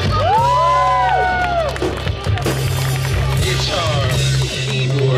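A street-side crowd at Fisherman's Wharf in San Francisco cheers and whoops for a one-man-band street performer, loud and close, with excited shouts rising over a low drum-like thud.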